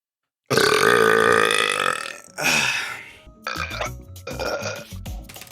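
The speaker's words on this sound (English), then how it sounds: "Dude, I just burped too." A long, loud burp rumbles close up for about two seconds, then a shorter burp follows, with more bursts of sound trailing after.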